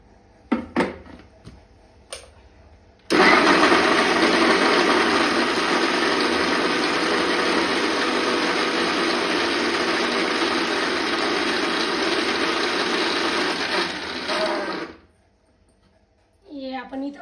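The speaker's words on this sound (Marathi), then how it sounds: "आपण याला मिक्सर मध्ये फिरवून घेणार आहोत।" Kitchen mixer grinder blending garlic, coriander and chilies with a little water, a steady loud whirring roar lasting about twelve seconds after a few clicks, then stopping, with brief speech before and after.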